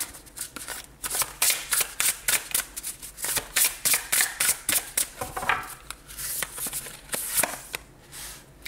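Tarot cards shuffled by hand for a Capricorn reading, a close series of crisp riffling bursts in a quick, uneven rhythm that thins out toward the end.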